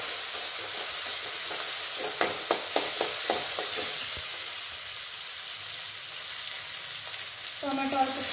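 Tomatoes fry with garlic and salt in a pan, a loud, continuous close sizzle with a brief run of spoon scrapes and taps partway through, and a short voice at the very end.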